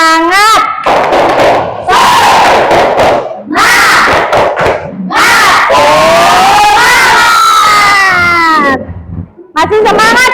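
A classroom of children shout a rhythmic tepuk semangat chant with clapping, loud and close, their voices rising in bursts with short pauses between phrases.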